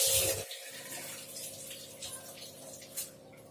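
Moth dal lentils are washed in water in a kitchen, a steady running, splashing wash with gentle sloshing throughout and no talk.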